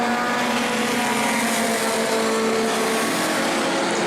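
Race cars in the Armadillo Enduro 100 at New Smyrna roar past in a steady, loud, continuous engine drone with a sustained whine, one car passing close.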